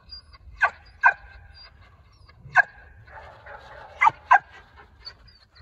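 A dog chasing a squirrel during training lets out several short, sharp barks and yips, scattered and fairly near, over a quiet outdoor background.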